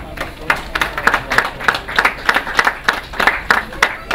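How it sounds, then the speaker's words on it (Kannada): An audience at an anniversary stage event claps in an even, rhythmic beat, with a run of sharp, fairly close claps at a steady pace and no clear talk over them. "ಪಾಲಿಗಳು ಸಾಲದು ಜೋರಾಗಿ ಚಪ್ಪಾಳೆ ಹೊಡಿಬೇಕು"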